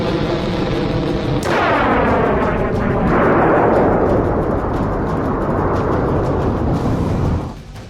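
A loud explosion from an Iranian missile test: a sudden blast opens into a heavy, sustained roaring rumble that lasts several seconds before cutting off.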